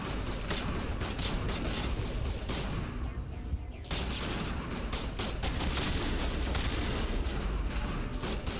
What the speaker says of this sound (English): I'll try the shotgun.